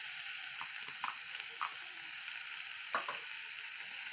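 Sausages and minced meat fry in a pan with a steady soft sizzle, punctuated by a few light scrapes and clicks of stirring, fairly quiet and close with no talking.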